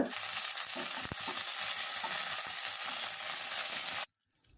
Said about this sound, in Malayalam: കാൽ ടീസ്പൂൺ അളവിൽ കടുകിട്ട് പൊട്ടിക്കുക ഇനി ഈ കടുകെല്ലാം പൊട്ടിത്തരുമ്പോഴേക്കും അതിലേക്ക് രണ്ട് ഉണക്കമുളക് രണ്ടായിട്ട് നുറുക്കിയതും കുറച്ച് കറിവേപ്പിലയും കൂടി ഇട്ട് ജസ്റ്റ് ഒന്ന് മൂപ്പിക്കുക